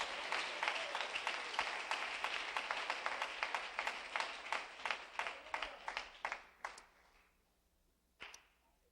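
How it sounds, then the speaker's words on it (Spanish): A church congregation claps together in a strong rhythmic unison beat that gradually fades, followed by a single late clap after a short lull. "¿Cuánto le damos un aplauso al Rey de Reyes,"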